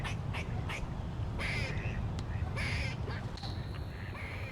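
Mallard ducks quacking on a pond shared with Muscovy ducks, teals and wood storks, several short quack bursts at middle distance over steady outdoor background noise.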